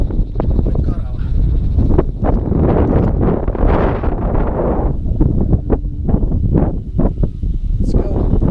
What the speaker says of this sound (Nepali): भयङ्कर हावा।